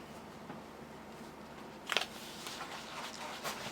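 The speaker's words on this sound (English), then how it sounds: "Now I'm gonna add just 1 egg to the mixture. I'm gonna whisk it in." An egg being whisked into cornbread batter in a bowl: quiet, brushy scraping with a sharper click near two seconds, then soft rhythmic strokes continuing close by.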